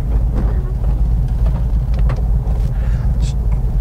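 A 1970 Plymouth Hemi Cuda clone drives along with a steady, loud low engine rumble heard from inside the car, holding an even drone with faint road noise above it.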